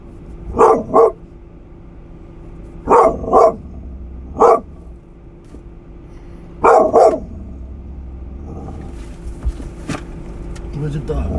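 Dog barking indoors, loud and close, in short pairs and single barks spread across several seconds, with quiet gaps and a low room hum between them.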